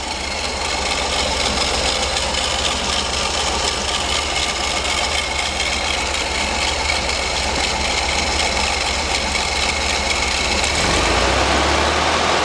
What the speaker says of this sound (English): Kinda sounds like I have a little bit of a bearing problem in that alternator.